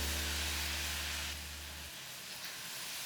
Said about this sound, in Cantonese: 將頭先切絲嘅蔬菜倒落去，用180度嘅油溫炸